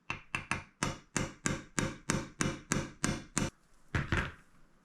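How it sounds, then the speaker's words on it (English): Metal tapping on a new bearing as it is driven onto an indoor split AC blower motor shaft with the base of a vise: about a dozen sharp, close knocks in a steady rhythm, then a short pause and two final taps. "So I'm going to use the base of the vise, tap it in gently."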